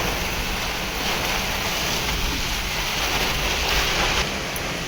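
Torrential rain pounding down in Chobari village amid strong wind, a constant loud hiss and patter on surfaces close by, unbroken and with nobody speaking.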